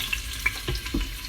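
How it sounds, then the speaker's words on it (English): Soft crackling sizzle of diced onion frying in hot oil in an Instant Pot, with a few sharper pops and light stirring sounds throughout. "And that's going to start sizzling at some point."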